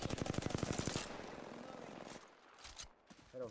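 Rapid automatic gunfire in the Apex Legends video game, a fast rattling burst of shots for about a second followed by softer scattered game sounds, fairly faint overall.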